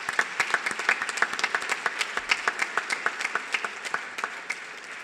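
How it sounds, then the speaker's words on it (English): Audience applause at a justice gala evening, a steady run of many hands clapping with a dense, even rhythm, fairly close and filling the whole stretch with no talk over it. "How about a round of applause for them?"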